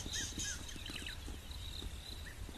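A rattling cisticola calls from acacias at sunrise on an African safari, repeated short chirps and rattling trills at moderate distance over a steady low rumble of background noise.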